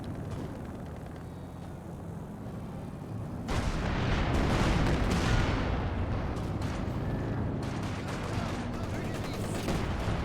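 Artillery barrages aimed at a mortar pit in a competitive video game match, heavy booming volleys that build into a dense, continuous rumble of gunfire. Quiet background chatter sits beneath the bombardment.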